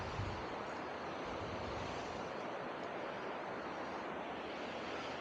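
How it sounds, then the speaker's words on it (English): Steady sea waves wash onto the shore as the tide comes in during push-net fishing, a continuous, even roar of surf with some wind on the microphone, no voices. "Tide's coming in now."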